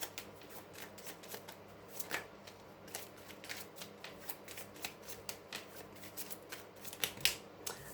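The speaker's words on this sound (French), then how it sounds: "Allez, on va mélanger." Tarot cards being shuffled by hand, a steady run of soft, close riffling flicks and taps that continues without a break under quiet room noise.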